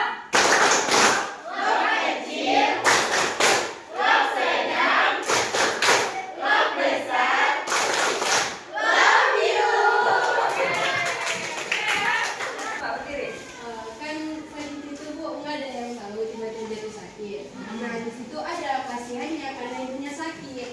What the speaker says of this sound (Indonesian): kasih apresiasi tepuk clap untuk Heidi Ram dan Sarah sebagai 1, 2, 3. Tepuk clap